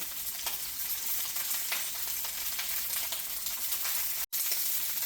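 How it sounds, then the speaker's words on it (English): Roma tomatoes and onion fry in a pan with a steady, dense sizzle and crackle that holds evenly throughout, broken once by a brief cut. "I'm just going to let that fry up until my tomatoes have blistered and my onion is a little charred"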